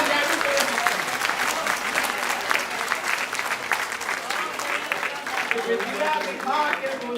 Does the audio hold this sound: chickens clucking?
no